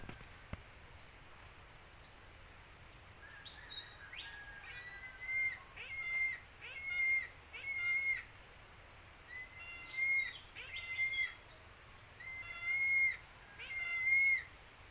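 A pet bird calling around a house, a series of short, high, chirping bursts that repeat every second or so over a faint, steady background hiss with insect-like noise, moderately distant.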